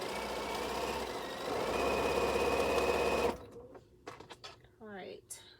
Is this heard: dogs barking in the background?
no